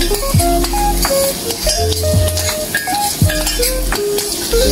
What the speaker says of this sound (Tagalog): Guys, ngigisa natin yung sibuyas